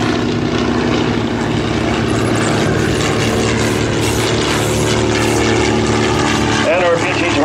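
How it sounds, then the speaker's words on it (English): Boeing Stearman open-cockpit biplane trainer with a 220 horsepower Continental R670 radial engine flying at a World War II airshow, a loud steady propeller drone throughout with an announcer talking over it. "Not so with the Boeing Stearman. That's an open cockpit all the way."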